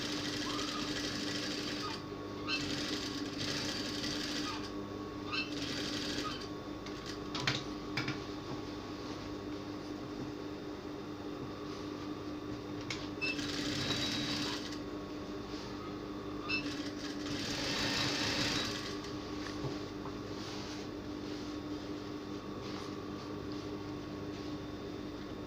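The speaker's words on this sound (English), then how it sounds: "Sew with 1/2 inch seam allowance all around the pocket bag." A sewing machine stitches the pocket bag seam of an A-line gown, humming in a steady, fairly faint mechanical whir with a few short pauses and changes in pace.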